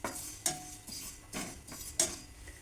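Sesame seeds dry-roast in a hot kadhai over a low flame, stirred with a utensil that makes four or five quiet scraping strokes at an uneven rhythm, close by, with no one talking.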